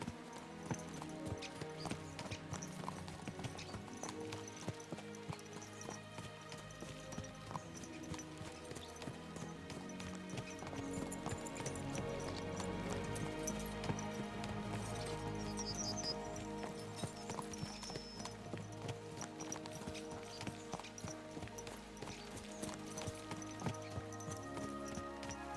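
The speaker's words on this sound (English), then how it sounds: "Let's really spur these horses on, eh?" Horses gallop with quick, steady hoofbeats in the video game Kingdom Come: Deliverance II. The sound is faint and sits under a continuous layer of game music, with an occasional whinny and no talking.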